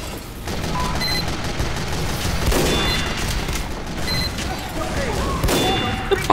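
Explosion and gunfire in Tomb Raider as a sentry gun is blown up, with dense bursts of blasts and projectile fire running continuously, loud and close, over game music.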